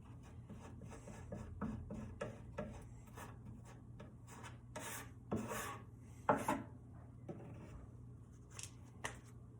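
Wood filler being pressed and spread into screw holes in a piece of furniture, heard as a series of short scraping, rasping strokes at an irregular rhythm, close and fairly quiet, with no voices.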